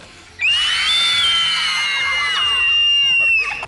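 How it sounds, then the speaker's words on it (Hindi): A person gives one long, shrill scream on request. It is loud and close, holds for about three seconds with a wavering pitch and stands alone without other voices. "चिल्ला के दिखाओ मेरे को।"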